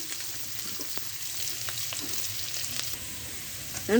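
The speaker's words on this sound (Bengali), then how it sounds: "এগুলো আমি 2 থেকে 3 মিনিট ধরে ভেজে নেব।" Garlic cloves and chopped onion fry in a pan for a fish curry, giving a soft, steady sizzle with scattered crackles, heard alone and fairly quiet.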